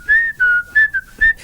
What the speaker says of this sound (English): Farmer was whistling